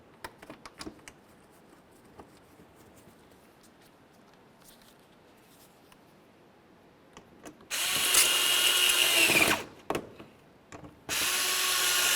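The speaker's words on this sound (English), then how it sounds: "Now we can put in the rest of our mounting screws inside each fender." A power drill drives mounting screws inside the fender wheel well of a 2005-2010 Chevrolet Cobalt, with quiet handling clicks and rattles first, then two loud whirring bursts about two seconds and one second long.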